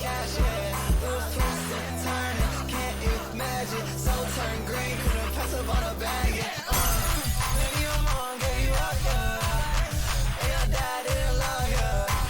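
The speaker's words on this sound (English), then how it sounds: "Smashing glass over my head here." Glass shattering sound effects ring out within a dense electronic song, bright crashing bursts layered over a pounding bassy beat that shifts halfway through, loud and continuous music with no talk.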